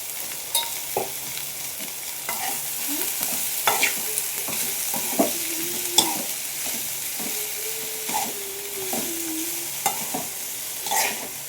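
Cluster beans frying in a pan while being stirred, a steady moderate sizzle with intermittent spatula scrapes and clinks, close with no talk.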